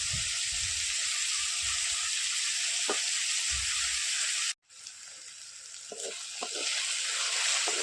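Squid sizzles and fries in a pan at a village kitchen, a steady loud crackling hiss with soft stirring knocks, briefly cutting out before the frying resumes and swells again.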